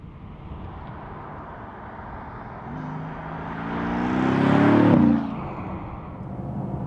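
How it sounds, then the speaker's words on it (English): A Mercedes-AMG GT S with a 4-liter bi-turbo V8 being driven, a steady road rumble that swells into a rising engine note and peaks before easing back. "So, to normal driving, the Mercedes-AMG GT, in this case here the GTS, and the 4-liter bi-turbo V8, here equipped with 522 horsepower"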